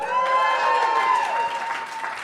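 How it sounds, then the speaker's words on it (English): A comedy club audience in Indianapolis applauds in a short burst of crowd clapping, with a sustained tonal hum or music running underneath and slightly fading toward the end. "Round of applause for yourselves."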